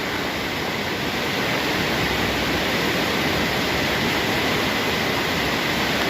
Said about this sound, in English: pretty sure this is an underground river that we're looking at right now.